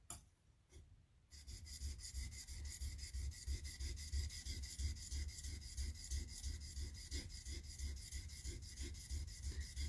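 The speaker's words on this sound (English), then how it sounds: "And with the stone, try to hear when you're not working the bevel, but you're really in contact with the shinogi." A sharpening stone is worked back and forth over the bevel of a Japanese-style blade, a close, continuous rhythmic rasping scrape after a brief quiet start, with no talking.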